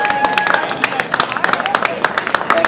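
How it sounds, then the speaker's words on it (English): Audience applause for a chef at a culinary event, a dense patter of many hands clapping steadily at moderate distance with light crowd murmur underneath. "Let's give Chef Allan Rupert a round of applause."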